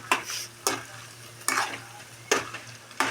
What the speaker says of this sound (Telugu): ఇవైతే గోల్డ్ కలర్ వచ్చే వరకు ముక్కల్ని వేయించాలి